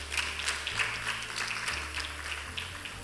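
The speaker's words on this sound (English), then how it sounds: "let's give the panelists a round of applause" A conference audience at an in-house counsel forum of a law conference applauds the panelists, a steady moderate patter of many hands clapping with low hum beneath.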